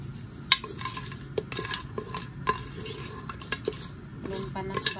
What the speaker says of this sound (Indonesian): terlebih dahulu kita goreng bumbunya, bumbu kasar ini